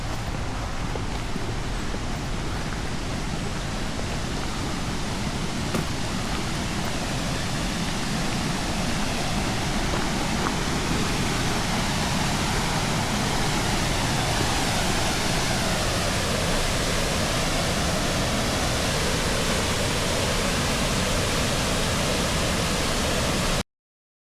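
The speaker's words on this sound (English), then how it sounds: "It ended up being the beautiful Falls of Falloch." The Falls of Falloch in Scotland roar with a steady, broadband rush of falling water, constant and enveloping for the whole stretch, with no voices.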